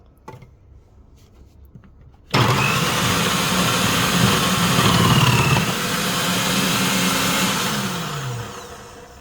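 A Kenwood MultiPro food processor slices onions, kicking in abruptly after quiet handling noises and then running as a loud, steady motor whir with a slight pitch drift before it winds down.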